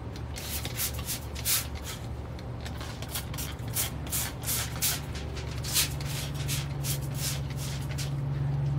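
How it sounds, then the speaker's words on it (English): Quick bursts of a spray bottle misting hot vinegar onto a pork shoulder, irregular pumps repeated many times over a low hum, close and fairly quiet. "I'm going to spray it down one more time, really good"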